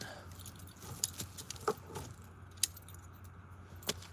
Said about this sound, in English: Check out my keys, right?